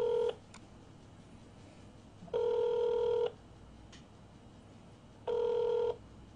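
A telephone rings in three separate electronic tone bursts, each about a second long with pauses of roughly two seconds between them. The ringing is moderately quiet and plays alone, with no talking.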